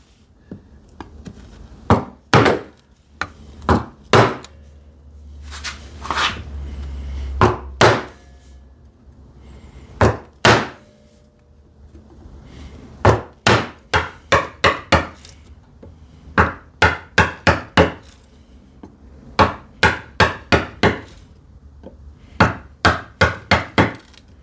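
A chisel chops into wood during hand-tool woodworking on a TV unit, giving close, sharp knocks in uneven bursts of several strikes with short pauses between them and no talking.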